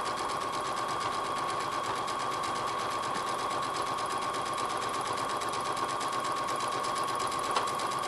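Sewing machine running steadily while stitching a rag quilt in a random design pattern, a continuous close, even motor whir with rapid needle chatter throughout, no pauses.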